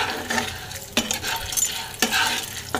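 Corn kernels stirred in hot oil in a pan for homemade popcorn, with three loud scraping stir strokes spaced about a second apart over a steady sizzle, close up with no talking.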